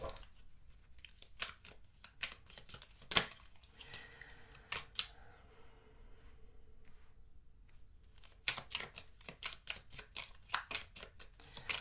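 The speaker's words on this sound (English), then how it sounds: "let's pull your oracle cards." Oracle cards are pulled and shuffled in sharp, papery bursts of snapping and riffling, close and clear, with a quieter pause in the middle before a quick flurry resumes.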